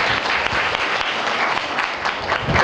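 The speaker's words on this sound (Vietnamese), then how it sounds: "chúng ta hãy dành cho anh một tràng vỗ tay thật lớn" A big round of audience applause for Phạm Văn Phương, sustained dense clapping from a crowd that stays loud and even throughout.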